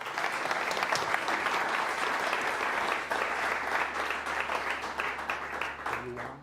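An audience applauds a speaker being welcomed to a lecture on war gaming in Newport, sustained dense clapping from a sizeable crowd that carries on steadily and fades slightly near the end.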